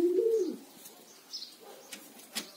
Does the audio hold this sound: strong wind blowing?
no